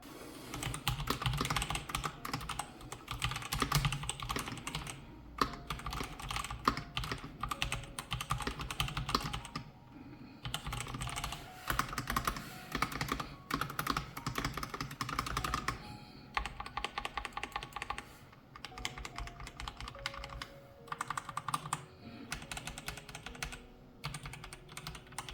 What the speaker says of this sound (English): Let's do a sound test on how this keyboard sounds